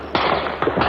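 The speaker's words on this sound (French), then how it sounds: "Les premiers coups de feu retentissent" Three sharp broadband cracks of gunfire ring out in quick succession from mercenaries in a combat operation, each burst loud and close, with no talk over them.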